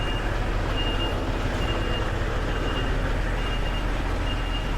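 A reversing HGV lorry beeps at a steady, evenly spaced rhythm over a constant engine drone, backing up to a loading shutter door.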